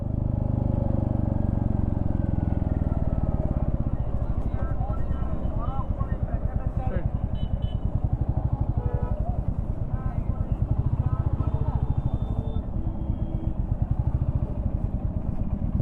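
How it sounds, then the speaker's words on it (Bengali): A motorcycle engine runs with a steady low throbbing hum on a road trip near a temple in Odisha, continuous and fairly close, while someone talks over it. "এখান থেকে বাইক নিয়ে এবার এখান থেকে আমরা এগোবো।"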